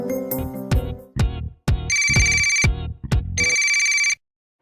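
A phone ringtone plays loud and close: a run of bright melodic notes, then sustained electronic ringing tones in two long bursts, cutting off abruptly with no speech.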